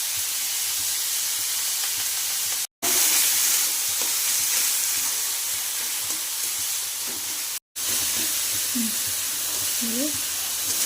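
Onions frying in a pan with salt added while bitter gourd sabzi is cooked, a loud continuous sizzle with two brief cutoffs and faint scraping of stirring near the end.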